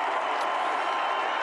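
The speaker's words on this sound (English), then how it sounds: "So I want one more round of applause for this team that was together" Broad, steady roar of a stadium crowd applauding the Georgia Bulldogs at a championship ceremony in Sanford Stadium, a dense continuous wash of clapping and cheering heard at a distance with no single voice standing out.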